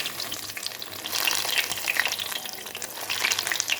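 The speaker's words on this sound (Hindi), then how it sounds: "तो गाइस अब हम इसको फ्राई कर लेते हैं। हमारा ऑयल गर्म हो चुका है" Breadcrumb-coated potato gulab jamun balls sizzling steadily in hot oil, a close, bright crackle with scattered pops, alone with no talking.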